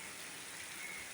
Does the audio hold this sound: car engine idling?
no